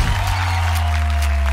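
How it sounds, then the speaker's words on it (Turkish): Studio audience on the Turkish word game show Kelime Oyunu, New Year special, applauding steadily through the short stretch, the clapping blending into a loud, sustained music bed with low hum. "ilk konuğumu alkışlarınızla davet ediyorum."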